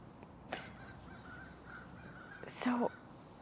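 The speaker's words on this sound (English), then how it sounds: "And there's crows. You can hear the crows." Crows caw outdoors, one call early on and a louder cluster near the end, over a quiet, faintly hissing background with a voice speaking.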